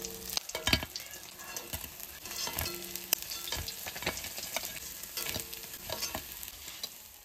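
Fish frying red in hot oil in a pan, a continuous close sizzle with repeated stirring and scraping clatters scattered throughout, no voices.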